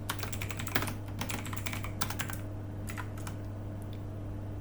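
Fingers type on a computer keyboard, a quick uneven patter of close key clicks over a steady electrical hum, slowing to scattered taps toward the end.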